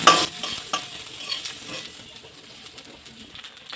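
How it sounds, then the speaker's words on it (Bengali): Drumstick stems frying in hot oil while being stirred, with a soft continuous sizzle and a few sharp scraping clicks of the spoon near the start. "ডাঁটাটা হালকা ভাজা হয়ে গেছে"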